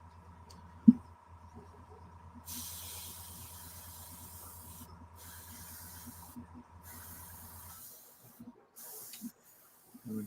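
An airbrush sprays green paint onto an unmasked model in several bursts of soft, airy hiss, each start and stop sharp, over a faint steady compressor hum, with no talk.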